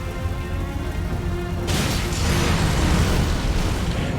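A sudden heavy boom in Elden Ring, during the Mohg boss fight, bursts in and rolls into a sustained, rumbling roar over background game music.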